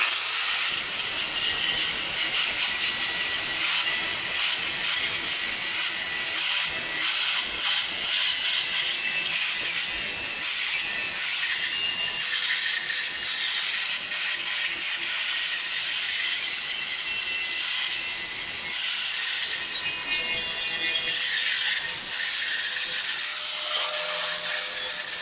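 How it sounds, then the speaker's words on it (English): Abrasive scrubbing as old paint is cleaned off metal before torch welding: a steady, loud, gritty rasp that runs continuously with rapid texture, alone without talk. "So I'm going to go ahead and clean off this old paint and stuff."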